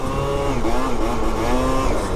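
A scooter fitted with a 70cc stunt kit pulls away from a standing start, its high, buzzy two-stroke engine note rising steadily and loud at close range for about two seconds.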